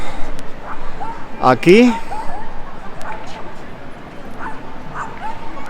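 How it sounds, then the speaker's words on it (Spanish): A dog barking and yipping outdoors near a park bench, one sharp bark and a whimpering yip close by, with faint further yelps, under a man's speech and background chatter. "Ahora hay un perro que ladra."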